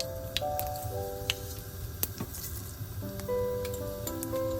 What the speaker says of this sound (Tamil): அளவான எண்ணெயை எடுத்துக்கொண்டு கடுகு சேர்க்கிறேன்